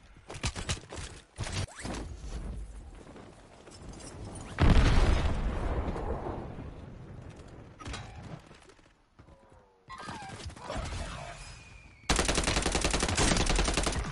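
Bursts of video-game gunfire while shooting at pop-up targets, sharp shots and rapid automatic fire in uneven clusters with loud explosive booms, some sections cut abruptly, no talking.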